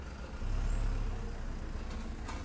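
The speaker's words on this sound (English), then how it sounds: "Oh, now we've got another big truck going by." A big UPS delivery truck rumbles past with a deep engine drone, fairly close and steady, its low roar slowly easing off toward the end.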